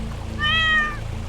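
A cartoon cat in an animated story gives a single short meow in the middle, over a low background hum.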